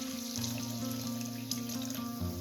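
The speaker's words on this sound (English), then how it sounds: "Add a little bit of water." Water pours into a pan of spicy duck roast, a short soft trickle with light liquid splashing, heard up close beneath gentle background music.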